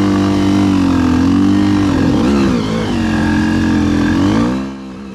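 A dirt bike engine labours in first gear, climbing a hill slowly, with a loud close steady drone whose pitch wavers, dips and rises again, then drops off at the end.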